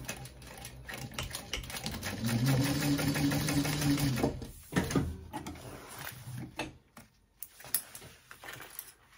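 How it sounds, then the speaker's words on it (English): A sewing machine runs in a steady rapid whir while top stitching through a small backpack's exterior and lining, followed by stops, clicks and handling noises as the fabric is adjusted. "I'm gonna top stitch through the exterior and the lining so that they all lay nice and flat."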